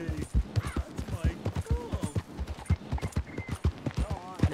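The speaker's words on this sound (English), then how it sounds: "Why are there just horses in the road?" Horse hooves clip-clop in a rapid, steady rhythm in Red Dead Redemption 2, several horses close by on a road, with a person talking over them.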